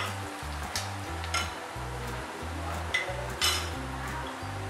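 Turmeric and chilli powder fry in a pan for a Kerala padavalanga thoran and are stirred, a quiet close sizzle broken by regular scraping strokes and a few light clinks of metal.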